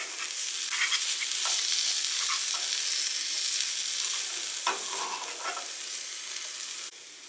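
Wilted spinach cooks in a hot pan with a loud, continuous sizzle and frying crackle up close, with a few brief stirring scrapes and no speech.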